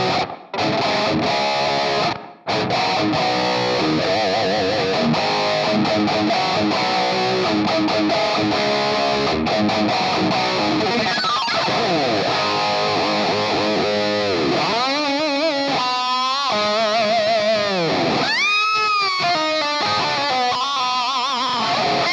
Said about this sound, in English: So let's try this room reverb here.